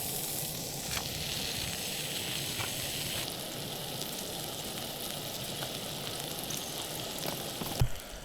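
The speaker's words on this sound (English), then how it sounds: "I'm going to chuck a couple of burgers on" A couple of burgers sizzle on a gas cooker outdoors, a steady close crackling hiss with occasional pops and a brief knock near the end, no voices.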